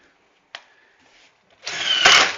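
A power drill drives 3-inch screws into a kitchen cabinet: a short click, a faint whir, then a loud, close burst of motor whine and grinding over the last second.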